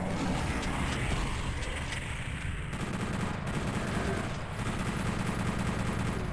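Chaingunner firing in PlayStation Doom 64, rapid continuous bursts of automatic gunfire that stay loud and dense throughout, with brief shifts in the barrage partway through and no talking.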